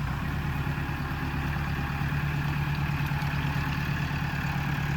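A tractor engine idles steadily in the background beside an old Irish stone outbuilding, a constant low rumble with a mid-range drone, unbroken and moderately distant with no talk.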